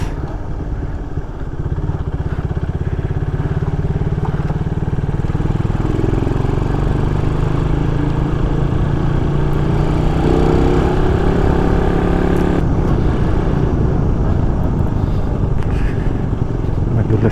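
Motorcycle straining along a slippery dirt trail on a mountain moto-hike, its engine a steady, close, continuous drone with shifting pitch as the rider works through the slick ground.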